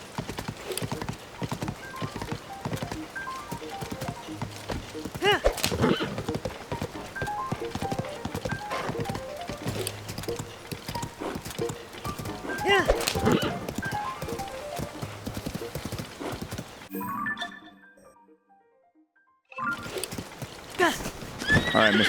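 A horse in Zelda: Tears of the Kingdom clip-clops along with steady hoofbeats and whinnies, close and lively, cutting out to silence for a couple of seconds before resuming.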